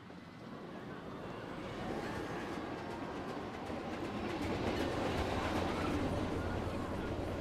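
Roller coaster trains held on the brakes in the tropical park of the video game Planet Coaster 2, giving a steady, dense rumble of rolling cars and machinery that swells slightly, continuous with no talk.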